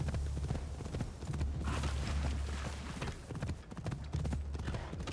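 Horse hooves clip-clop in a steady galloping rhythm in Assassin's Creed Shadows, loud and continuous with a low rumble beneath, and no voices.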